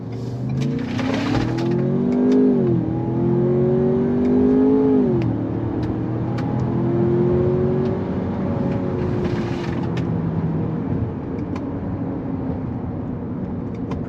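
A 2023 Ford Bronco Sport Heritage Edition accelerates on a road, its engine drone rising and shifting in pitch over steady road and wind noise. The sound is heard from inside the cabin, with no talk.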